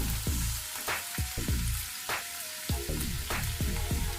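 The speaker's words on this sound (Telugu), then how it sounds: "ఇది కూడా కొంచెం 1 నిమిషం పాటు వేయించుకోవాలి." Chopped ingredients for a garlic fenugreek curry fry steadily in hot oil, a dense close sizzle with soft stirring scrapes and small pops running throughout, with no voices.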